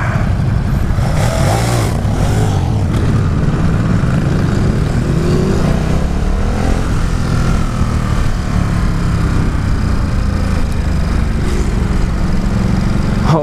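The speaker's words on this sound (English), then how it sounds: "Is that exhaust popping I hear?" A 2018 Ducati Supersport motorcycle being ridden: a loud, constant engine drone with wind rush close to the rider, with occasional brief sharp bursts that may be exhaust pops.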